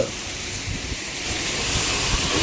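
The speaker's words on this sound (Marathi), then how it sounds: "आपण पाहू शकता वाऱ्यासह पावसाला सुरुवात झालेली आहे" Wind-driven rain starting over a small town during a gusty storm, heard as a continuous, even roar of wind and falling water with no voices.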